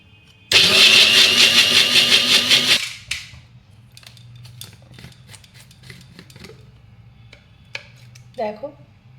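A grinder whirs a paste with a splash of milk for a healthy breakfast, a loud burst of motor noise lasting about two seconds, then clinks, scrapes and light handling sounds.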